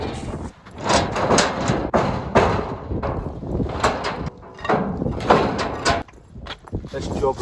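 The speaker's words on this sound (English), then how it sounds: "let's see if I can get these doors back on the rails" Sliding barn doors on a farm are shifted and knocked back onto their rails after storms, giving a run of heavy thuds, scrapes and rattling bangs close by, with wind buffeting the microphone.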